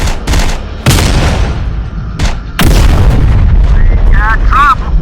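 Gunfire and explosions in Terminator Dark Fate Defiance: heavy booming blasts and rolling volleys of gunfire, loud and close, with radio-style voices and electronic chirps near the end.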